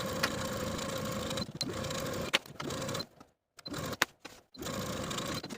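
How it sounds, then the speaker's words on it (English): Sewing machine stitching a curved seam on pants pocket pieces, running in steady bursts with brief pauses between runs, close and fairly loud. "Now we're going to sew these pocket pieces together around this curve from the top of the pocket to the side seam of the pocket"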